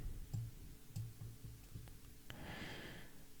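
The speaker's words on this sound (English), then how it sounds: "Click next again." A handful of small, sharp computer mouse clicks spaced apart, close but quiet, followed by a soft breathy hiss.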